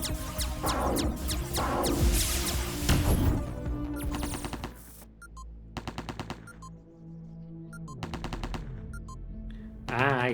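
An automated turret hammers out machine-gun fire in Deus Ex: Enhanced Edition, heavy rattling bursts at first, then shorter spaced volleys separated by quieter game ambience.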